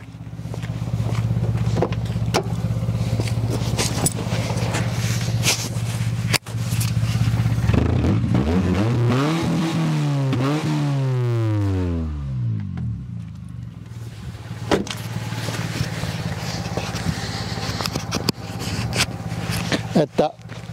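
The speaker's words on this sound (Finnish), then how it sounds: "on vähän pakoputki rikki" A Toyota Corolla hatchback with a broken exhaust pipe idles with a loud, rough drone, then revs up and back down in a rising and falling sweep before settling to a rattly idle.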